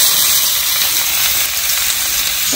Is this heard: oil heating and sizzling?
yes